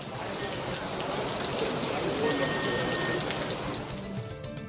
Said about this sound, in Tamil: மழை பெய்தது